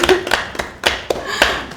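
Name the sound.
applause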